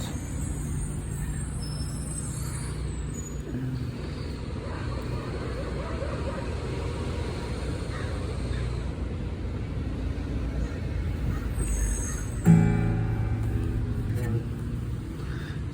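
A heavy dump truck rumbles past nearby in steady road noise, with a brief clunk and hiss near the end; faint voices murmur underneath.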